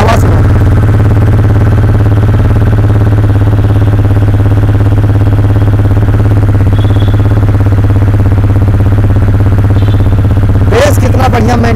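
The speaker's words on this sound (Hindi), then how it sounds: "इंजन में ये सिस्टम बहुत ही बढ़िया, साइलेंटली बाइक स्टार्ट हुई, देखो आप आवाज़ सुनो।" A TVS Ronin 225 motorcycle, 2024 base variant, idles with a steady low mechanical hum and faint clatter, loud and close throughout, with a brief sharper burst near the end.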